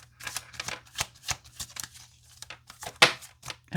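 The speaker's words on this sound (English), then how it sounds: "I'm going to shuffle again" Tarot cards being shuffled by hand in a quiet room, a series of soft papery riffles and slaps in uneven bursts, with one sharper flick standing out near the end.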